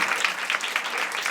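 Applause from a congregation during a Sunday church service, a dense steady patter of many hands clapping together at close range, with no speech over it.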